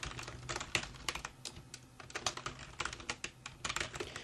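Rapid, irregular keystrokes on a computer keyboard while entering login details for a job-posting site, close and clear with no talking.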